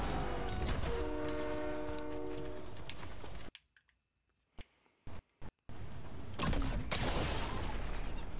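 A train rumbling past in Fortnite, its horn blaring in a sustained tone at first, then the sound cuts out to near silence with a few short bursts before the loud rolling noise returns.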